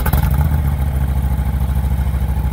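A fuel-injected Harley-Davidson Road King idles nearby with a steady, loud, low rhythmic rumble and fast even pulsing, no voices over it.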